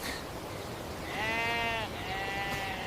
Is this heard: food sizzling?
no